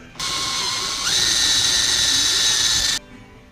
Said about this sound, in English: now this one needs to be reamed up to 1/8 inch